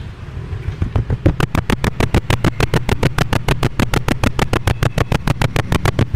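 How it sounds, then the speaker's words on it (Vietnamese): A 1999 Honda Super Dream motorcycle idles with its original engine and exhaust. A steady, close, even chain of exhaust thumps runs throughout, with no voices. "Bây giờ em cho anh chị nghe tiếng máy tiếng bô ha."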